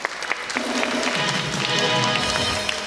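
A studio audience applauds for a singer during a talk-show interview, giving a steady, close wash of many hands clapping that holds for the whole moment.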